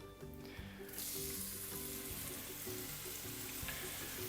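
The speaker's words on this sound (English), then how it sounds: "bacon goes in. And all we're looking to do is just brown this off, let it release its juices" Bacon frying in oil in a hot cast iron pan, browning on the hob for a Portuguese feijoada, with a loud, steady sizzle that swells after a quieter start and carries on alone.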